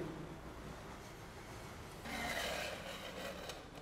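A scale slides into the mounting channel of a projector screen with a steady, close rubbing scrape that turns louder and rougher halfway through.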